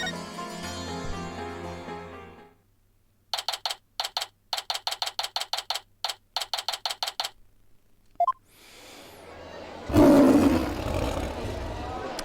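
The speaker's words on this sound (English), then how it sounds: "It's a cry of the local bird known as a warabad." A warabad bird lets out a sudden, loud, lion-like roar in the video game Phoenix Wright: Spirit of Justice. It follows a stretch of game music and rapid rhythmic text blips, and plays alone.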